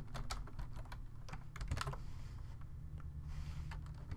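Fingers type on a computer keyboard in irregular bursts of quick clicks, close and faint over a low background hum, with no speech.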